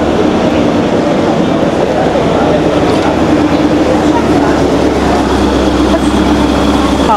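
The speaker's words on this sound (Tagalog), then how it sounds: "It's a tourist train." A tourist train rolls through the streets of Verona, Italy, making a loud, steady rumble close by while people talk over it.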